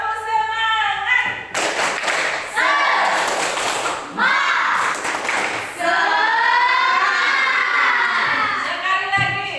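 A classroom group of children does a rhythmic clap chant to build spirit, sharp clustered claps punctuating loud shouted chanting voices at close range, with short pauses between bursts.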